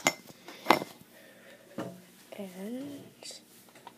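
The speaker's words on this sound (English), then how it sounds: "put the frying pan on." Frying pan set onto a stove with a couple of sharp metallic clanks and clatter, close and fairly quiet, while a person talks.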